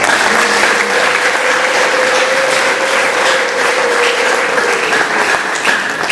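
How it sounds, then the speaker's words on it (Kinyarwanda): A church congregation at an ADEPR service claps together in dense, sustained applause, loud and close. The clapping stays steady throughout, with no voices standing out. "tuyishimire, tuyikomere amashyi"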